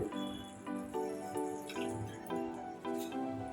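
Water dripping and splashing in short bursts, around seven quiet pours or drops at irregular intervals, as a small amount of water goes into a pot for a vegetarian fish curry, with no talking.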